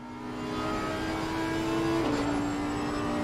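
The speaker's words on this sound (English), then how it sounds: "Listen to that engine." A Porsche GT3 race car engine drones loudly and steadily while racing at Suzuka in a video game. Its pitch holds high, then drops suddenly partway through and carries on.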